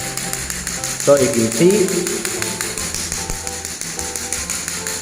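Hard tapping on floor tiles with a sphere-ended hollowness tester during a new-home inspection, checking for hollow spots in the cement bed. A few close knocks ring out while someone talks over them.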